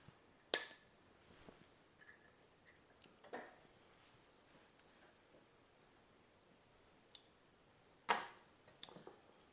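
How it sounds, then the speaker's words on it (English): A few sharp, isolated snips cut a cable tie off a GPU power cable, close and crisp against near silence, with small clicks between them. "I had cable tied this when I originally installed it, so I'm just going to go ahead and snip that off"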